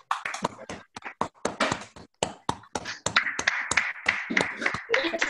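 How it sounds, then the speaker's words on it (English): A round of applause comes through an unmuted video call at a board of education meeting: scattered, uneven claps from several participants, sharp and close, growing denser and more continuous toward the end. "we can do a big round of applause for all of our Teachers of the Year"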